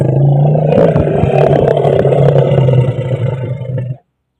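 A Thai elephant gives a loud, close call, a sustained rough roaring rumble lasting about four seconds before it cuts off abruptly.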